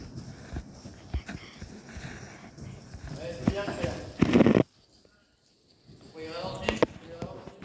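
A horse gallops over ground poles, with a run of rhythmic hoof thuds and clip-clops that build to a loud burst, fall briefly quiet, then resume, while a rider talks over them.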